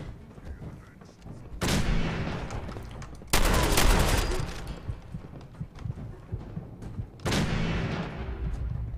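Gunfire from an automatic weapon in Fallout 4, heard as three loud bursts of shots with quieter gaps of game ambience between them.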